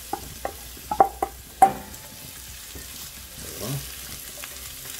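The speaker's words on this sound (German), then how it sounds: "Die tun wir jetzt halt erstmal ganz kurz leicht andünsten." Onions softening gently in a pan give a soft sizzle with a few spoon clicks and scrapes against the pan, quiet and close, while a voice says a single short word.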